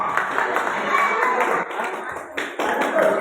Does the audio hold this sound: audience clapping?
yes